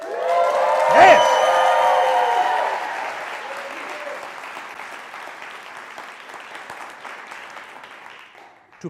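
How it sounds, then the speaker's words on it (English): An audience at a talk applauds loudly and cheers, with whoops and roaring voices at the start, then settles into sustained clapping that gradually fades. "please applaud, cheer, and roar as loud as you can"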